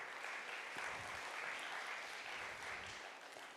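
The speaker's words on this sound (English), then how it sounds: "Let us all give a big round of applause to the budding artists of Bhavisya 2024." Audience applauding young Bharatanatyam dancers at a classical Indian dance recital, a steady, fairly distant wash of many hands clapping throughout, gently tapering at the end.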